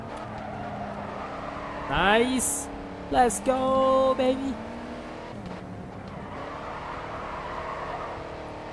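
A race car engine in the GRID 2 racing game revs up in two sharp bursts with rising pitch, loud over a steady engine drone, while someone talks excitedly over it.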